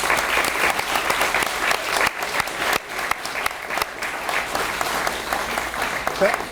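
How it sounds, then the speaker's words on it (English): A high school scholarship ceremony audience applauds a winner, steady dense clapping from many hands filling the room for several seconds. "let's give her a round of applause"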